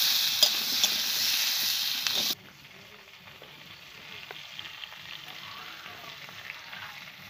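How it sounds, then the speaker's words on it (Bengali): Potato pieces seasoned with salt and a little turmeric fry in a pan, giving a loud close sizzle with stirring scrapes that drops abruptly to a quieter, steady crackle partway through. "আলুটাকে নেড়ে চেড়ে লাল লাল করে ভেজে নেব।"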